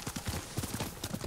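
Horse hooves clip-clopping in the video game Ghost of Tsushima, a quick rhythmic run of close, fairly soft hoof strikes repeating throughout.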